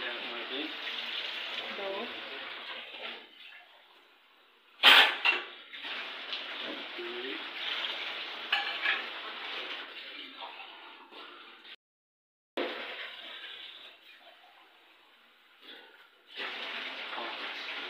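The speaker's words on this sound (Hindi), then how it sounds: "पानी डालो।" Water pours into a large pot while gajar ka halwa is being cooked at a Pakistani street food stall in Islamabad, a steady splashing rush broken by brief pauses, with clattering and voices in the background.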